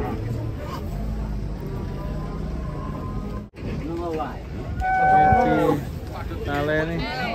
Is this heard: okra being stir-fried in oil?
no